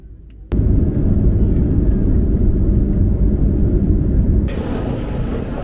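Heavy, loud, broadband roar of an airliner on arrival at Beirut airport in Lebanon, surging suddenly and holding steady, then easing slightly near the end.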